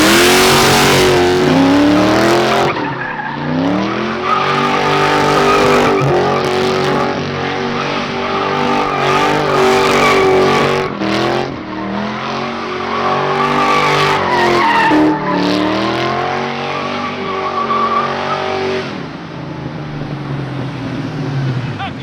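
A 2021 Ford Mustang Mach 1 does a line-lock burnout, its V8 revving hard in repeated surges while the rear tires squeal loudly and continuously, close and dominant throughout.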